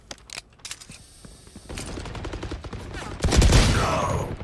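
Gunfire in Valorant, a video game, with shots from a Sheriff pistol: scattered sharp cracks that build into a loud, dense burst of shooting near the end, over busy game noise.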